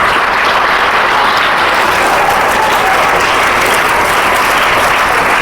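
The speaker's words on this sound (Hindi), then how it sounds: "तो एक बार पुनः सर के लिए जोरदार तालियाँ बजा दो भाई।" Loud, steady applause from a group of students for their teacher, a continuous close-up wash of clapping that holds at full strength throughout without a break.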